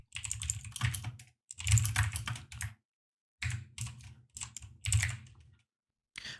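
Code being typed on a computer keyboard, with fast bursts of clattering keystrokes split by short silent pauses, close and clear with no talking.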